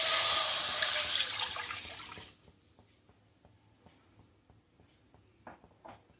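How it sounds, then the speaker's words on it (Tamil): Four tumblers of water pour into a hot pan for ragi noodles, a hissing, splashing gush that fades over about two seconds. Faint clinks and small kitchen noises follow. "சூடான panல எடுத்து வச்சிருக்கிற நாலு டம்ளர் தண்ணியை ஆட் பண்ணிறேன்"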